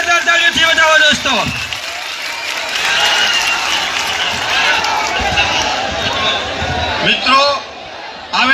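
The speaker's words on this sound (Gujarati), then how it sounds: "જોરદાર જેતપર ગામને જોરદાર તાળીઓથી વધાવો દોસ્તો." Crowd at a farmers' gathering in Jetpar village, Morbi, breaking into loud sustained applause that carries on for several seconds, with someone speaking over a microphone at the start and end.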